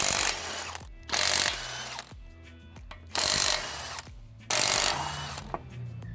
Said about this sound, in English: Let's get the wheels off.